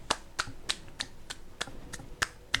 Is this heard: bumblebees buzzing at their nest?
no